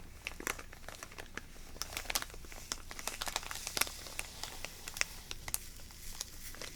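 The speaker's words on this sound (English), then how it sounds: "This one to me is a really nice kind of crinkly sound." Close, irregular crinkling and crumpling crackles fill an ASMR zen garden scene, a steady scatter of sharp little crackles and soft rustles with no voice.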